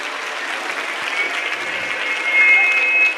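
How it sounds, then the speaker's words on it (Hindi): An audience at a large religious gathering gives loud, continuous applause, a steady wash of many hands clapping that swells slightly toward the end. "एक बार जोरदार तालियों से"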